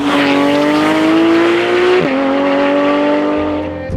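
A Porsche 911 GT3 RS flat-six revs loud and high under hard acceleration, then its PDK gearbox snaps through an instant upshift midway and the engine pulls on at a lower pitch, close and unbroken, with no voices.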